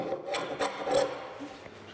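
A homemade glue scraper made from a plane blade rasps across a wooden tabletop in a workshop, giving a few close, dry scraping strokes that fade toward the end, without any talk.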